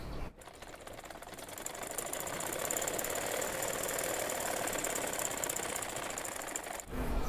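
A sewing machine runs continuously while stitching a kameez, its motor whirring in a steady, close mechanical buzz after a brief start, then stopping near the end.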